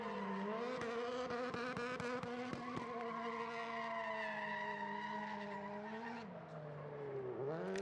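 Car tires skidding continuously as Travis Pastrana spins donuts at Sonoma Raceway, a loud sustained squeal with a wavering engine drone underneath and brief sharp transients early on.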